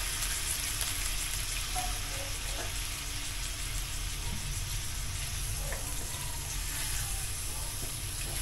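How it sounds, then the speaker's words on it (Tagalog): Ingredients sauté in a pan for mackerel pesto pasta, a steady soft sizzle with faint stirring clicks underneath, fairly quiet and continuous. "Igigisa lang natin mga 2 to 3 minutes yan."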